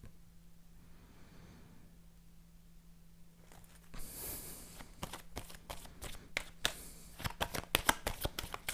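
A deck of playing cards being cut and handled, a run of crisp close riffling flicks and snaps after a quiet stretch with a low hum.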